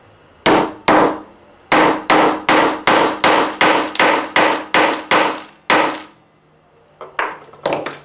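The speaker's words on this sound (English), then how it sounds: "get a nice big heavy brass hammer, or whatever kind of heavy hammer you got" A series of heavy brass hammer blows rings out on metal while making silver earrings, about a dozen sharp evenly spaced strikes, then a pause and a few lighter taps.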